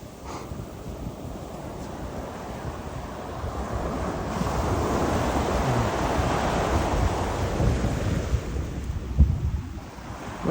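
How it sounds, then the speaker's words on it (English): Wind and surf on Kaanapali beach, Maui: a continuous broadband roar of breaking waves and gusts buffeting the microphone, swelling slightly louder midway, with no voices. "I feel the wind coming from the south. Wonderful Hawaiian breeze."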